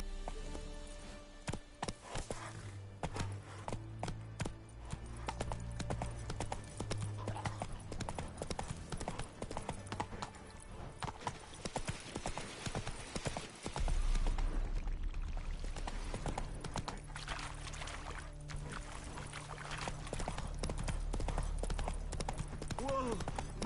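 Geralt's horse Roach trotting in The Witcher 3 next-gen, a steady, close clip-clop of hooves running throughout over a low game soundscape, with brief voices nearby.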